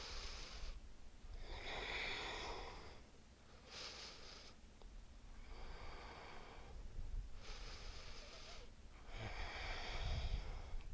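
Slow, deep breaths taken during an abdominal yoga flow, with long airy inhales and exhales coming in an even rhythm, close and soft over a quiet room.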